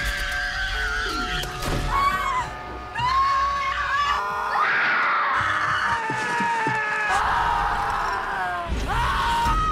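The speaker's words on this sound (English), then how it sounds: "Now you can finally fall asleep to the sound of women in terror." Women scream and shriek in terror, loud, piercing cries rising and falling continuously with overlapping voices and brief pauses.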